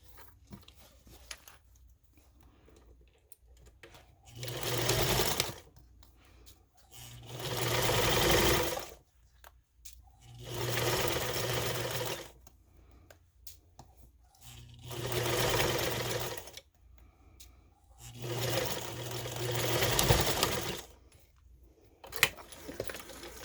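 A home sewing machine stitches a seam on a fabric book bag in five steady bursts of whirring, each a few seconds long, separated by short pauses with faint fabric handling.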